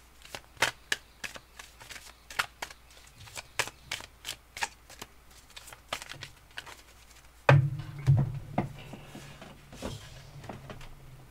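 Tarot cards being shuffled by hand, a quick series of crisp riffling flicks in an irregular rhythm, close and fairly soft, followed by a louder rustle and thump as the deck settles.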